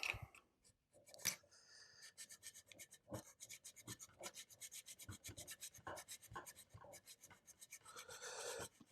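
A metal file rasps steadily across part of a Saiga 12 airsoft stock tube, with close, rhythmic back-and-forth strokes continuing for several seconds after a brief pause near the start.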